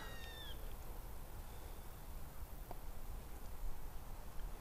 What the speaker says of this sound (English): I think there might be some youngsters up there. The way they're making noise